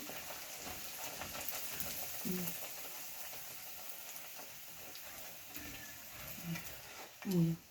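Dal puri frying in oil, a steady soft sizzle with faint stirring and occasional low bubbling bursts, heard close and fairly quiet.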